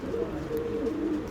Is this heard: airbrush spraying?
no